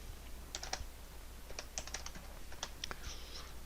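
Quick bursts of computer keyboard typing in irregular clusters of keystrokes, close and fairly quiet over a low steady hum, with no voices.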